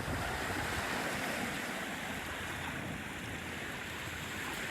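Ocean waves wash steadily at the Midway Inlet on Pawleys Island, where a creek flows in and out of the ocean; a continuous, fairly loud surf roar with wind noise and no clear individual breakers.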